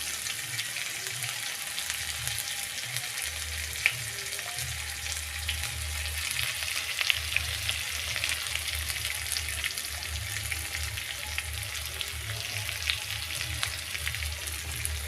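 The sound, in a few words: turmeric powder frying in a pan, being stirred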